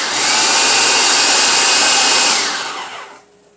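A food processor whirs loudly and evenly as it pulses a quinoa veggie burger mixture, one sustained buzzing run that cuts off and fades near the end, with no talking.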